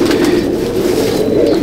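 A Kaldum female pigeon in a loft of Chennai and Andhra Madrasi pigeons in Howrah coos steadily in a low, throaty, continuous drone, close and loud, with no voices.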